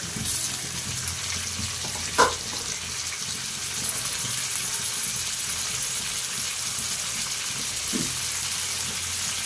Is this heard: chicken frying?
yes